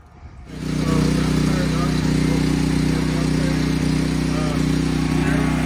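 A portable generator engine catches after cranking and settles into a loud, steady mechanical drone close by, with a quiet start before it fires up.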